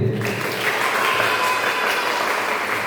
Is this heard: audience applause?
yes